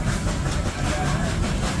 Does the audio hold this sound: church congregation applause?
no